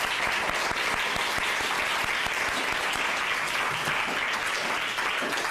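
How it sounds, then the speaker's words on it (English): Sustained applause from a Model United Nations conference audience at a high school, dense and steady clapping filling the room for several seconds without a break. "We want to give you another huge round of applause"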